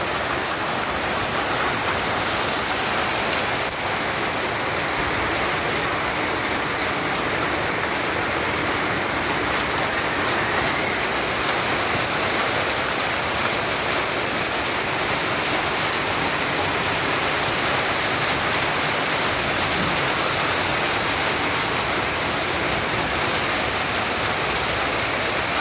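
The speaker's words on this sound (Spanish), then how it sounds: "Y mire, pues ya se ha venido la lluvia." Steady rain falls in Tocoa with a dense, even hiss. It is continuous and fairly loud throughout, with no voices.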